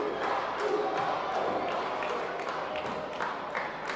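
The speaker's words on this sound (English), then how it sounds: "A smattering of a Lucha chant coming out here" Crowd at a wrestling show giving a scattered, rhythmic Lucha chant, a steady roar of many voices with rising pulses, heard at a distance under constant arena noise.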